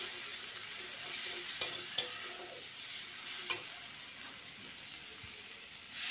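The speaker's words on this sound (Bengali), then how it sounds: "এটা একটু ভেজে নেব।" Coarse ginger and garlic paste fries in a pan with a soft, steady sizzle, broken by a few light scrapes and taps from stirring, fairly quiet and with no voices.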